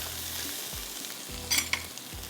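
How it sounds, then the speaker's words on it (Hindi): Chicken pieces frying lightly in a pan for a Behari tikka, a steady close sizzle with a couple of sharper crackles and stirring scrapes, no voices. "ये देखिए यहाँ फ्राई हो रहा है"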